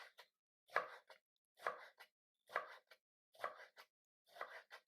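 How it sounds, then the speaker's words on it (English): Knife chopping tomatoes on a board, heard as five evenly spaced bursts of close, crisp cuts, each a quick cluster of strokes, with quiet gaps between and no talking. "Now chop it."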